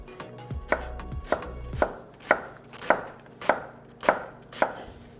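A knife dices an onion on a cutting board in a steady rhythm of about nine sharp, close chops, with no talking.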